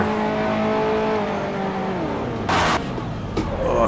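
A 1955 Formula One car engine in Grand Prix Legends revs and falls away as a gear into fourth is missed, with sharp bursts of noise near the end; the engine is loud and close, with no talk.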